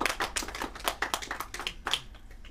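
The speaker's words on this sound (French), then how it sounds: "Vos applaudissements." Audience applause, a quick run of scattered, fairly light hand claps from a modest crowd.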